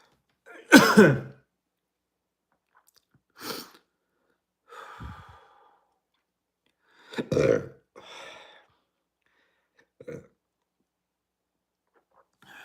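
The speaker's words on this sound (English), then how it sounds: "Got the pepper burps." A man burps several times after eating a superhot chili pepper, with loud, throaty belches and softer breathy sighs spaced apart by silence, close to the mic.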